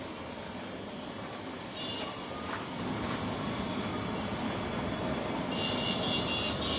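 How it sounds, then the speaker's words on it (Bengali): A helicopter comes down to land at Mymensingh football stadium, its engine and rotor producing a steady, broad drone that grows slightly louder and closer as it goes on, with no talk. "এই যে এখন হেলিকপ্টার নামতেছে"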